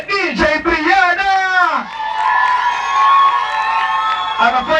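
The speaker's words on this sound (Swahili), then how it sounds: "nataka mnisaidie kupigia DJ wangu shangwe na vigelegele" At a Kenyan football creative art festival, a crowd cheers for the DJ while a loud, sustained, high ululating cry rings out near the microphone, with shouting voices around it.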